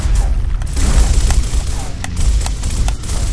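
Gunfire in the Gears of War video game: sharp single shots popping at irregular intervals over a low, rumbling bed of in-game noise.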